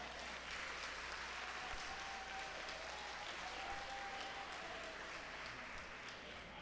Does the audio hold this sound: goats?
no